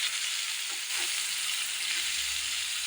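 Onion and garlic paste with asafoetida frying in hot oil over a medium flame, a steady close hiss and sizzle with faint stirring scrapes.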